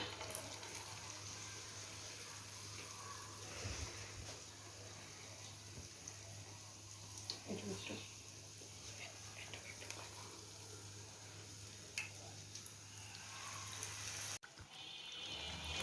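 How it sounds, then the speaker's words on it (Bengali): Pumpkin flower fritters frying in oil over moderate heat, a steady soft sizzle with faint bubbling and occasional clicks from handling, heard alone without talk. "দেখতে পাচ্ছেন আমার কুমড়ো ফুলটা সুন্দর ফ্রাই হচ্ছে, লালও হয়ে আসছে প্রায়।"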